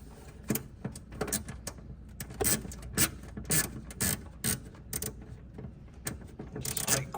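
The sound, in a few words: Icon mini ratchet from Harbor Freight clicking while turning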